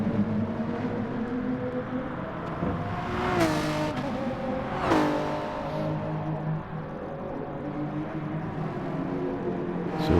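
A Jaguar race car in a racing video game, its engine droning loudly and steadily, with two sharp revs rising and falling as gears change, heard alone without talk.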